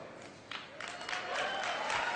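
An audience applauds and cheers at a product presentation. Clapping swells from sparse to a steady, fairly faint patter over about two seconds.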